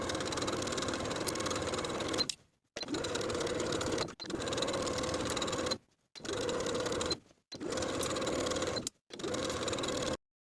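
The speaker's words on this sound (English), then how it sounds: "Now we'll sew the waistband to the top of the pant all the way around with a 3/8 inch seam allowance" A sewing machine stitches a waistband onto the top of a pair of pants in steady runs of about two seconds each, separated by brief silent pauses, heard close and alone.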